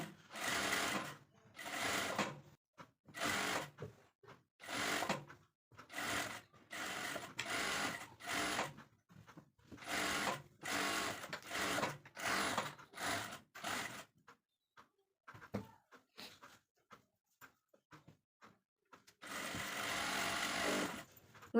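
An electric sewing machine stitches the neckline of a blouse in repeated bursts of rapid, close mechanical whirring, separated by short quiet pauses, with one longer run near the end.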